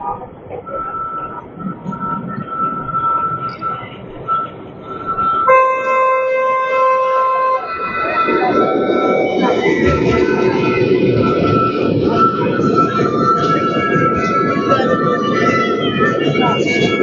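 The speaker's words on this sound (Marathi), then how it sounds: "हे बघा आले ट्रेन." A toy train at a seaside amusement spot near a beach passes with a steady rolling rumble, after a loud, sustained whistle-like horn tone, with some brief voices in the background.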